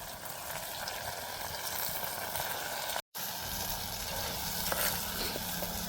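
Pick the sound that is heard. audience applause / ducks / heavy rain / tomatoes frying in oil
tomatoes frying in oil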